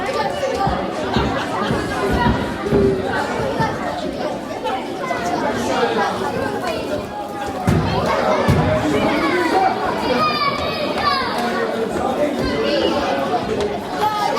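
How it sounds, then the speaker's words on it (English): A wrestling crowd at a UBW British Heavyweight Championship match makes a continuous, loud roar of chatter and shouting with mixed voices, including higher children's voices, that holds steady throughout and swells slightly partway through. "The crowd getting into the mind of the Breaker early on"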